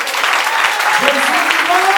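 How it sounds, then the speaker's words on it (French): A church congregation claps in a dense, steady burst, with a voice calling out over the applause. "Nous applaudissons Jésus."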